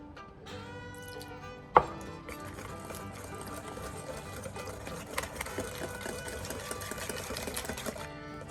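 An electric blender whirs steadily as it purées chickpeas and tahini into hummus, a continuous motor drone lasting throughout, with a brief knock near the start.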